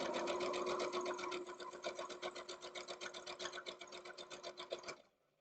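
A sewing machine stitches quilt pieces with a fast, even mechanical chatter, faint and steady for about five seconds before it stops abruptly.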